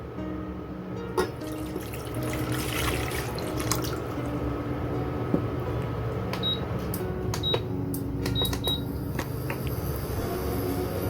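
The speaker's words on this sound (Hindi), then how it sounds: "और उसमें ऐड करेंगे हम पानी।" Tap water runs steadily into a pan for Kashmiri kahwa tea, a continuous close pour with a few faint drips and clinks, no talking.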